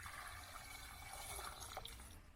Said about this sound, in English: So here I add water.